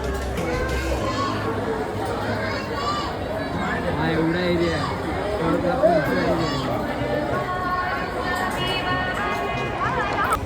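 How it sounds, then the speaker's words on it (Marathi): A dense crowd of pilgrims waits in a long queue at a temple, a steady babble of many voices with children's chatter mixed in, continuous and close around, while a person talks nearby. "दर्शनाला खूप गर्दी आहे"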